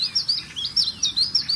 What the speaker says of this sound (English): This is the call of the Chiff Chaff.